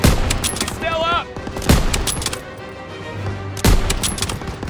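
Dense rifle and machine gun fire from a Call of Duty WW2 battle, with loud bursts and sharp shots in rapid succession, close and intense, while soldiers' voices shout over the combat.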